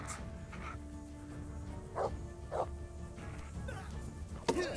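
Dog barking in the medieval RPG Kingdom Come: Deliverance, a few short barks and yelps in a row amid game ambience and clatter, moderately loud.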